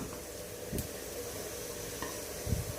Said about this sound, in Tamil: இந்த பன்னீர் எல்லாத்தையுமே நம்ம வந்து வறுத்தெடுத்துக்கலாம்